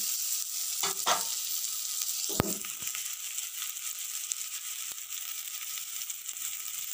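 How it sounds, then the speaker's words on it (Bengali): Onions sizzle and crackle as they brown in a hot pan for masoor dal with bottle gourd, with a couple of clinks and scrapes of a utensil stirring, fairly quiet and close. "আমাদের পেঁয়াজটা ভালো ভাজাই হয়ে এসেছে মোটামুটি"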